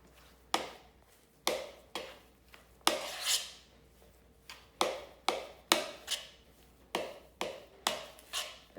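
Jacket potato filling with finely grated cheese and mustard is mixed, with a series of scraping strokes against a bowl repeating about once a second, each fading out, heard close without talk.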